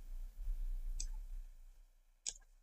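Two sharp clicks from a computer mouse on a Windows 10/11 PC, spaced about a second apart and heard alone against a quiet background.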